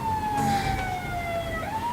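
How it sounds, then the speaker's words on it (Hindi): A police car siren wails steadily and loud, its single tone sliding slowly downward then rising again at the end, with a faint low road rumble beneath and no talking. "ये पुलिस के सायरन की आवाज सुनाई दे रही है तुम्हें?"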